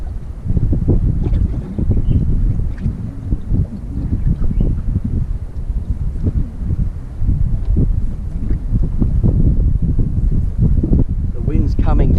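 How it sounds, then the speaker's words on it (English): Strong wind blows straight onto a fishing boat, a loud low rumbling buffet against the microphone that goes on throughout, with water sounds and someone talking underneath. "The wind's coming basically straight onto us"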